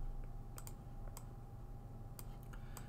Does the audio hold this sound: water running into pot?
no